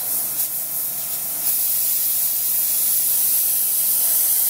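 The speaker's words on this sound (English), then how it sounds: "It'll throw out quite a bit of paint if you need to do some coverage." Grex Tritium TG3 airbrush with a 0.3 mm nozzle and needle spraying paint, a steady close airy hiss that swells slightly louder partway through and holds without talk.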